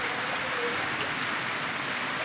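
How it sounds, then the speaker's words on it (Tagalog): Rain pours down steadily as a dense, even hiss during a flooding downpour, with no voices. "simpleng ulan lang yun, pero ayan ang inabot namin, binaha kami"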